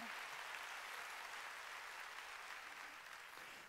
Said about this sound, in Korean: 박수 치려면 치고 말려면 말고.